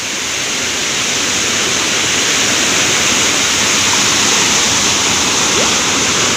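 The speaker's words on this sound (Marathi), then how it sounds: "आणि हा बघा असा खालती किती उंचावरून पडतोय पाणी" A loud, continuous roar of water pouring down from height at a Konkan waterfall in Chandranagar, Dapoli, steady broadband rushing that fills the whole clip with no voices.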